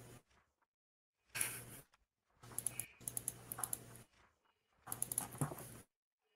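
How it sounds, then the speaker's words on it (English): Paper pages turning near an open microphone during an online voice chat, heard as three separate rustling, crinkling bursts with short silent gaps between them. "stop turning the pages. Who's turning the pages?"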